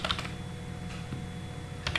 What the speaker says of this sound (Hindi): मैं यहाँ पे टाइप कर दे रहा हूँ अपना WhatsApp नंबर